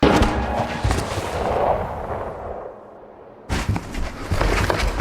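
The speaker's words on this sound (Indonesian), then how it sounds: "Tiba-tiba terdengar suara tembakan dari luar" Loud, dense bursts of gunfire and blasts from a film soundtrack, with a brief lull before another heavy volley erupts.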